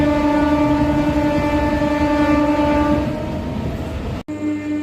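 A MEMU electric multiple-unit passenger train pulls out of Mandavalli station on the Vijayawada–Narasapuram line, a loud steady rumble of motors and wheels with a sustained horn-like tone, easing off slightly before a brief cut near the end.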